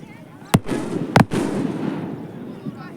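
Two sharp, loud firework or firecracker bangs burst about half a second apart at a riverside ghat on the Ghaghara river, followed by a lingering rumble and murmuring crowd in the background.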